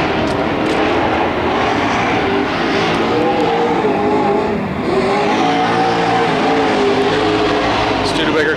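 Super stock race cars roaring around Petaluma Speedway, a loud continuous engine drone that rises and falls as the cars pass, with an announcer talking over it throughout.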